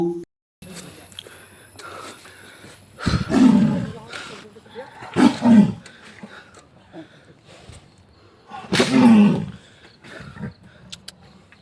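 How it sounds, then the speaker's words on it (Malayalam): A man-eating tiger trapped in a forest department cage gives several deep roars and growls, loud and close, with people talking and a commotion around the cage. "കാളിക്കാവിലെ ആളെക്കൊല്ലിക്കടുവ വനം വകുപ്പ് സ്ഥാപിച്ച കൂട്ടിൽ കുടുങ്ങി"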